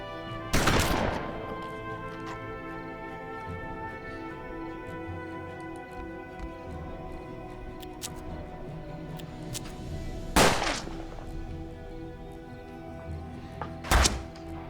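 Gunshots in the Western video game Hard West: three sharp, isolated reports spaced several seconds apart over a steady droning, tonal game soundtrack, with no talking.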